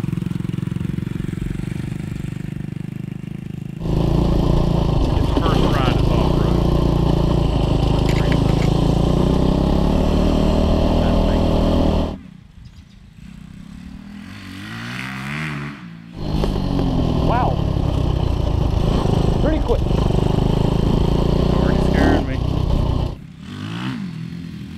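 A restomodded Honda Trail 70 motorcycle fitted with a 190cc engine being ridden, its loud buzzing engine revving steadily for long stretches, dropping briefly to a lower idle before surging again.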